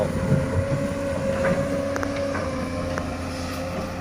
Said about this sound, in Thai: ตัวนี้มาดูครับฟูโซ่เขาว่าแรงแรงนักแรงหนาดูครับนี่